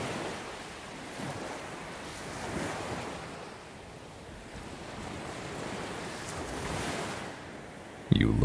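Ocean waves washing in and out with gusting wind, a broad continuous roar that swells and recedes in slow surges, ending with a sudden loud bump of wind on the microphone.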